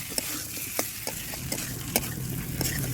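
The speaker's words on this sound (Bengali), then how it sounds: "এগুলোকে কিছুক্ষণ এভাবে নাড়াচাড়া করে কষে নিতে হবে" Potatoes, prawns and bottle gourd stems are stir-fried in a pan under a steady sizzle, with a spatula scraping and clacking against the metal in irregular strokes.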